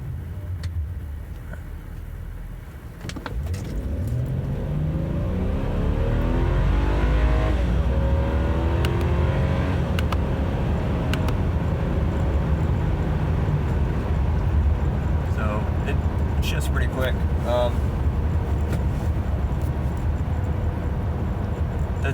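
A car with a Stage 2 5EAT-DBW tune pulls away hard from a stop, its engine note climbing steadily after a brief idle and holding a loud, close, sustained roar.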